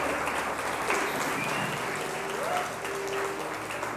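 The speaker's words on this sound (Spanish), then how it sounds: "Dale un aplauso al que vive." A church congregation applauds, with dense sustained clapping and a bright ring of many hands filling the room, steady and moderately loud throughout.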